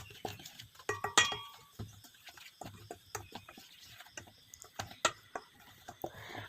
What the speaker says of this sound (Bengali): সুজিতে দিয়ে ভালো করে আমি মিশিয়ে নেব।